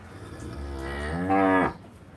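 A single young heifer moos nearby, a long rising bellow that swells louder before cutting off, over faint background noise.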